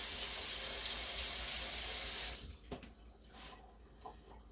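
Kitchen tap running as hands are rinsed, a loud steady rush for about two seconds that cuts off abruptly, followed by quiet drips and faint handling sounds.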